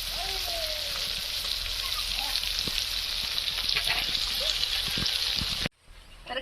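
Finely chopped garlic sizzles steadily in a hot pan over a wood-fired stove, a continuous loud frying hiss with small pops and stirring clinks, cutting off abruptly near the end while someone talks over it.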